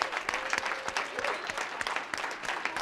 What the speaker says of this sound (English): please can you give my wonderful, wonderful panel a big round of applause